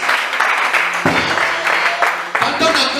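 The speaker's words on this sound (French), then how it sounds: "Acclamez très fort pour Jésus." A church congregation cheers and applauds loudly for Jesus at a French-language service, with dense, sustained crowd noise and bursts of clapping that carry on throughout.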